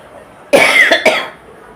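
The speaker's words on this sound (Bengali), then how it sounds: "তার শরীরটা বেশি ভালো না প্রচন্ড পরিমাণে কাশি" A man who is unwell lets out a heavy, harsh cough, a loud close burst followed by a second quick hack, then fading.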